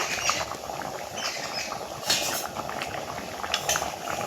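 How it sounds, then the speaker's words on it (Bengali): Rui fish curry gravy with gati kochu bubbles at a boil in a pan, giving a close, steady bubbling patter with scattered light clinks of a utensil. "দেখুন ঝোলটা ফুটে গেছে"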